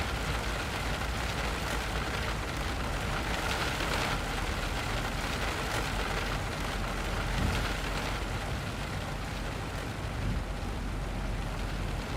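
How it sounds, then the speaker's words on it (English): Heavy rain drums steadily on the airframe of a Boeing 737 in the X-Plane 12 flight simulator, a dense, continuous hiss with no pauses, wrapped in a low cabin rumble from start to finish. "Raining pretty hard out here."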